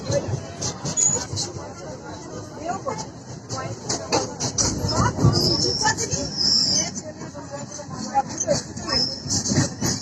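Steady rumble and rattle of a moving train car heard from inside a passenger carriage, with continuous clatter and occasional sharp bangs under murmuring voices throughout.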